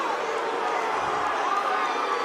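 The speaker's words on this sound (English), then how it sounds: "The crowd raining down boos." An MMA crowd at a Bellator welterweight title fight keeps up a continuous, loud wall of booing and jeering from a large audience, with no gaps.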